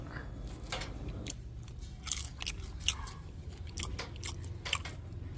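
Someone bites and chews oven-baked, herb-marinated catfish cooked in a clay jar, with crisp skin giving several close, crunchy bites and soft chewing sounds at an irregular pace, with no talking.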